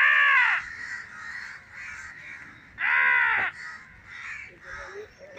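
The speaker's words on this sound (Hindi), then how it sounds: "देखो कौए ही कौए" Loud, harsh crow caws come in two strong bursts with fainter answering calls between them. A boy has summoned the flock with his own calls, and people may be murmuring faintly underneath.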